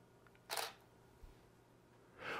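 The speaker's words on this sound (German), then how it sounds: "Das Ganze machen wir jetzt nochmal und wir lösen nochmal aus" Shutter release of a single-lens reflex camera: a quick mechanical snap near the start, a faint tick midway and another snap at the end, set against a quiet room hiss.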